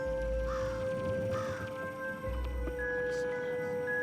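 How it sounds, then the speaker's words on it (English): In the video game Lost in Random, a crow gives two close, harsh caws over a steady droning game soundtrack with a low rumble beneath. "Bird!"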